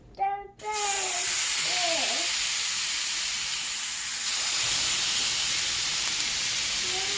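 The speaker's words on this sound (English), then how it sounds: "I'm going to go ahead and get the steak on the griddle." A steak seared on a hot griddle gives off a loud, steady hiss that lasts the whole time. It starts with a brief burst of a voice, and a few faint voice sounds drift in later.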